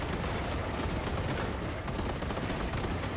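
Dense, continuous gunfire from vehicle-mounted weapons in the wasteland driving game Machine Mind, a loud, unbroken roar of rapid shots with no pauses.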